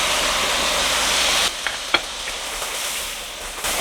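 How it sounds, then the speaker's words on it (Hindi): Steady loud sizzle of spices and tomato frying in oil for bhuna qeema, with a few scraping stirs near the middle. "मसाले को हम भून लेंगे कि टमाटर अच्छे से मैश हो जाएं"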